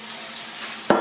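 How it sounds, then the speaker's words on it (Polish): Steady hiss and crackle of turkey breast frying over medium heat in a hot pan, continuous and close, with a brief louder clatter near the end. "niech się nam smaży"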